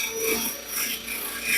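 A nylon abrasive bristle brush scrubs over the new rivets on an aluminum jon boat with rapid, raspy rubbing strokes, close and fairly loud, without voices.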